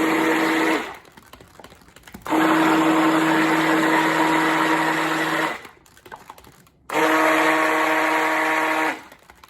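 A blender pulses soap ingredients in three loud motor bursts, each a steady high whine lasting a few seconds, separated by short pauses of quieter rattling.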